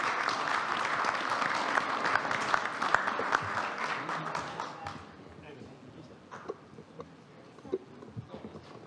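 Audience at a forum on private security in Mexico applauds the panel's experts and speakers, a full round of clapping for about five seconds that thins out into scattered, sparse claps and taps.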